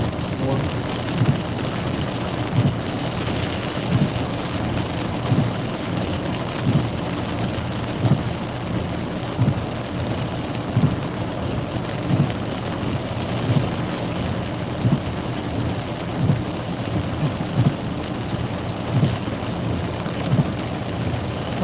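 Heavy thunderstorm rain drums steadily on a car during a tornado-warned storm, with faint rumbles of thunder rolling beneath the constant downpour.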